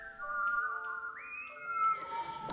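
A person whistles a wavering melodic line, sustained tones gliding up and down with a brief rise midway, close and clear with no talk over it.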